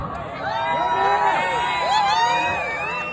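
A crowd at an outdoor freedom protest rally in Toronto cheering, whooping and shouting together, a loud sustained swell of many voices with rising and falling calls close around.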